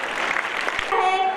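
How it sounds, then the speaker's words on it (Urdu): Applause from an audience at a school annual gathering program, a dense wash of clapping that carries steadily through the moment, with a brief tonal sound near the end. "ان کا استقبال زوردار تالیوں سے کرے"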